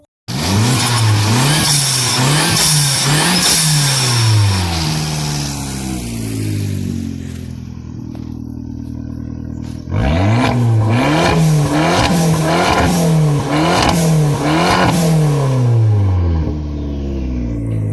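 A Fiat 500 Abarth engine with a Neuspeed cold air intake revs loudly and repeatedly nearby, pitch climbing and falling in sharp surges, with a brief lull before another burst of aggressive revving.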